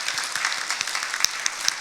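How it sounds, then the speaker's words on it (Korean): Church congregation clapping together in welcome during a Sunday worship service, a brief, fairly close burst of steady applause with a few sharper individual claps and no talking. "우리 박수로 환영하도록 하겠습니다."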